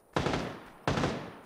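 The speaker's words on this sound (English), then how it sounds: "Oh, I'm getting shot at." Two sharp gunshots crack out in PUBG, spaced under a second apart, each loud and close with a short decaying tail, no talk over them.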